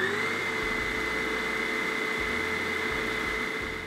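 A Vitamix food processor attachment runs at its single fixed speed, a loud, steady motor whine with a constant pitch, held for four seconds close to the microphone and starting to fade at the end.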